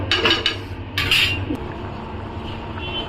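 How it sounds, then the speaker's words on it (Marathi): A spoon clinks and scrapes against a pan while vegetable curry with sandge cooks over medium heat, a few sharp metallic taps early on followed by quieter stirring scrapes, with no talk. "आपण एकदा चमचा मारून बघूया"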